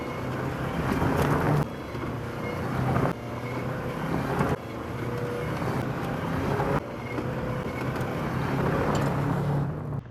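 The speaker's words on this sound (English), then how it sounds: "This car seems to drive fine now." A Subaru Legacy drives laps, its engine and road noise a steady loud rumble with heavy wind buffeting, interrupted by several abrupt cuts, close and continuous with no talk.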